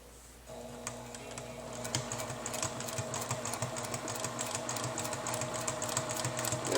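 A Juki TL2010Q sewing machine stitches fabric, its motor humming with a fast rapid needle chatter that starts quietly after a short pause and builds to a steady, close run.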